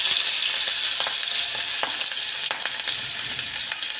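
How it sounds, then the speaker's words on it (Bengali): Hilsa fish pieces coated in turmeric and salt fry lightly in a pan with a bright, continuous sizzle, close and steady, with occasional spatula scrapes and crackles. "এবার একটুখানি হালকা ভেজে নেব"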